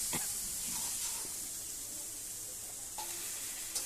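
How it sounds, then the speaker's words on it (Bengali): Spice masala sizzling and frying in a pan for aloo dum, a steady hiss with occasional crackles and stirring scrapes, close up and fairly quiet. "দেখো বন্ধুরা, আলুর দমে মশলাটা কষানো হচ্ছে"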